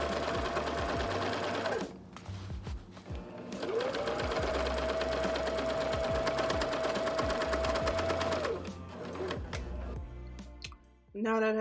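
Sewing machine stitching a pillow case, a steady fast mechanical whir with rapid needle ticking running in two long bursts, close and clear, with a brief pause between.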